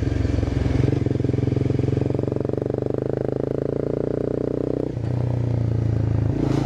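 Honda CBR 250 motorcycle being ridden, a steady close engine drone with a brief dip near the end before the engine note picks back up, no talk.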